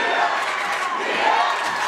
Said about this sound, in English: And the crowd fires up.